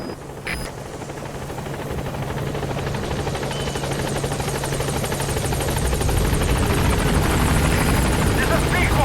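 Helicopter in the video game Metal Gear Solid 5 gaining altitude at a landing zone, a loud, steady rotor chop and turbine whine that builds gradually, with a radio voice speaking over it.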